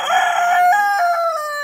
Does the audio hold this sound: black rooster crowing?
yes